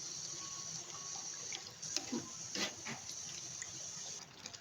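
Water runs steadily into a pot of chicken haleem with a soft, continuous splashing hiss, close by, with a few brief louder splashes.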